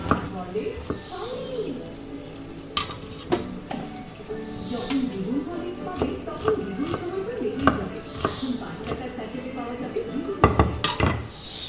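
Chopped fish mixture kneaded and mixed by hand for a Bengali lunch dish, giving soft, wet squelching and stirring noises with a few sharp clicks of a bowl, steady and close throughout.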